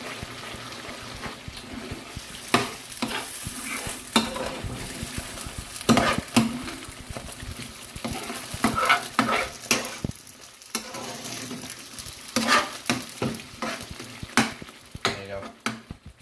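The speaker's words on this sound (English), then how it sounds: "Stir that in." A spoon stirs onion paste and splashes of Worcester sauce into a chicken Madras curry frying in a pan. Repeated scraping strokes run over a steady close sizzle.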